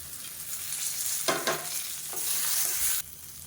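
Spices, chillies and grated coconut sauté in a pan, a close, steady sizzle with a few bursts of stirring scrapes, the frying noise cutting off abruptly near the end.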